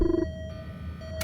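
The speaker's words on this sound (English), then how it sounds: "so that's the alarm sound" Alarm in the video game FNAF The Diner, a short pulsing electronic tone followed by a steady high beep and a brief noisy burst at the end, clean and synthetic with no voices.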